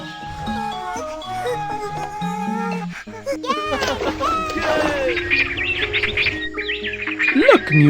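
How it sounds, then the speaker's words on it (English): Cartoon birds in an animated Amazon rainforest give quick, high chirps and sweeping tweets, mixed with light background music and growing busier and louder toward the end. "Look, Miumiu, there are some birds. They are so pretty!"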